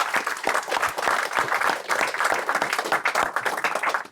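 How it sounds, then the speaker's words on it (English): Audience applause at an evening event, a steady, dense round of clapping from a crowd that holds evenly for several seconds with no voices over it. "round of applause for Rana and Brad"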